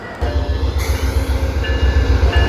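An Amtrak passenger train led by locomotive 100 rumbles past close by, loud and steady, with a rhythmic pulse of wheels over rail joints and a faint high metallic ring above it.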